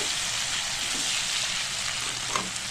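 Herbs fry in hot oil in a pan with a steady, close, bright sizzle that crackles evenly throughout, with a few faint stirring clicks and no talking.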